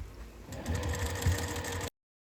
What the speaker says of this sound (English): I'm going to go ahead and sew the other side on just the same.